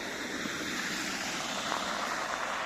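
Cars pass on a snow-covered road in Canada after the first real snowfall. Their tires give a steady, unbroken hiss and wash, with no distinct engine note.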